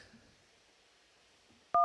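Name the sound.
telephone keypad tone pressing 1 to accept a call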